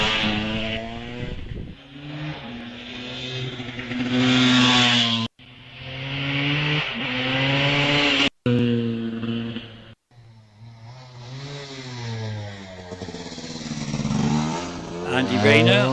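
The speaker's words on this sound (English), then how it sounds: "That's Patrick Evans on the KTM, down from Worcester Park, hoping to improve on his time from earlier." A KTM motorcycle climbs a hillclimb course at Wiscombe Park, its engine rising and falling through loud gear-change revs that cut out briefly between shifts, heard close with a commentator talking over it.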